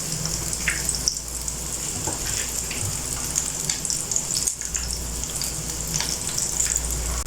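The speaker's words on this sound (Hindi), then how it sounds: "आधे कबाब को मैं ऑयल में फ्राई होने के लिए डाल चुकी" Egg kebabs frying in hot oil give a steady, close sizzle and crackle throughout, with a few louder pops and spits standing out; no one speaks.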